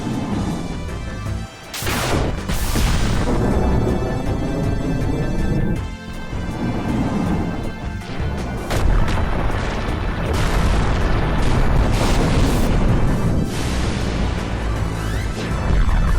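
A fire summon attack in Final Fantasy IX erupts in roaring flames, heavy booming blasts and crashing bursts, loud and sustained with several sharp impacts and rumbling explosions layered over one another.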